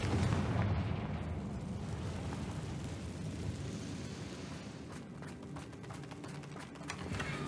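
In Hogwarts Legacy, a Confringo fire spell bursts into a broad, rumbling explosion, followed by a sustained crackling roar and scattered debris-like clatter at a fairly low level.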